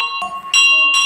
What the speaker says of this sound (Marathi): आणि नंतर अभिषेक घंटा वाजवायची होती.